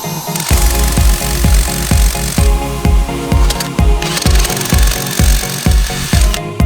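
A step drill bit bores a hole for a headrest during a car install, with a loud, close drill grinding in a steady repeating pulse.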